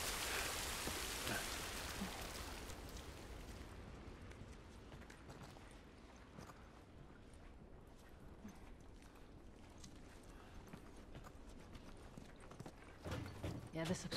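Steady rain hiss in the video game The Last of Us Part 1, heaviest at first and then easing to a softer patter, with scattered footstep-like taps.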